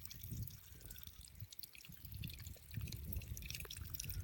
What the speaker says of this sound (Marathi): इथून तुम्हाला दाखवू शकतो मी कसं पाणी चालू आहे